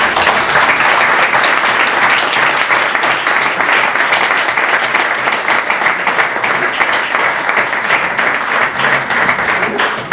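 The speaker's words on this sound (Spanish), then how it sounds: "Damos un aplauso muy fuerte a todos los saharauis" A packed audience at a round table on the Sahrawi people gives loud, sustained applause, dense and even throughout with no pause.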